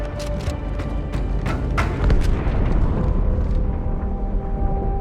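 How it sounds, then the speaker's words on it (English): Deep rumbling blast from inside a ship in Halo 2, a long low roar with sharp crackles early on that fades slowly toward the end. "That explosion came from inside the Athens, same as the Malta."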